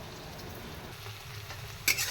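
Onions fry to a reddish brown in a pan, giving a constant moderate sizzle with light stirring and a sharp scrape near the end.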